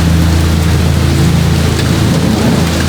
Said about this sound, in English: Only the rain and wind pressed at the walls.